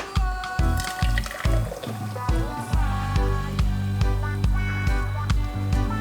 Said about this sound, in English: Now let's pour out this beautiful drink.